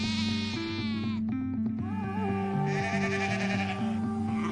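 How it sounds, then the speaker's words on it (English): Sheep on grassland pasture bleat in a chorus of several wavering, overlapping calls, near and fairly loud, with one long sustained tone running underneath throughout. "sheep in particular"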